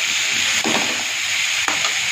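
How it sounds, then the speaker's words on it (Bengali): Chopped onion and green chili sizzle and fry steadily in a pan, with two distinct scraping stirs cutting through the constant hiss, no voices present. "এখানে আমি দিয়ে দিলাম পেঁয়াজ কুচি আর কাঁচা লঙ্কা দিয়ে ভালো করে নেড়ে নিচ্ছি"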